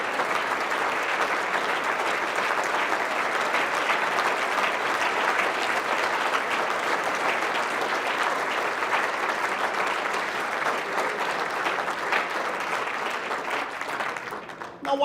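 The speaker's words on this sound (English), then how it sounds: "A great big round of applause." A great big round of applause at a Veterans Day luncheon as World War II veterans rise, dense sustained clapping from a large crowd that carries on steadily before easing slightly at the end.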